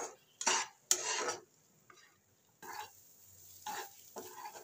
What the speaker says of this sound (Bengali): ভালো করে এবার সমস্ত মশলা দিয়ে কাঁকরোলটাকে কষিয়ে নেব।